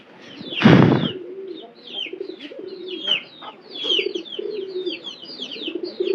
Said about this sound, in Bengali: তো সব কবুতরই আস্তে আস্তে আসবো, এই পানিগুলো খাইয়ে দেবো কিন্তু